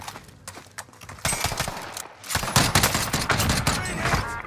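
Rapid DMR gunfire in a first-person shooter video game, a dense series of sharp cracking shots that grows louder and more continuous partway through, with no talking.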